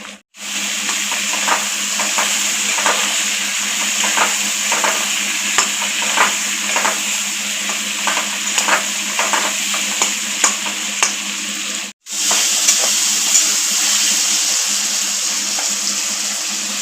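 Chopped tomato frying in a pan, a loud continuous sizzle with frequent rhythmic stirring scrapes and clicks, briefly cut off near the start and again around twelve seconds.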